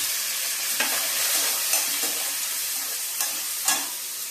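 Onions frying in oil in a pan while being stirred for a mixed vegetable paneer curry, a steady close sizzle broken by occasional scraping strokes of the spoon, with no talking.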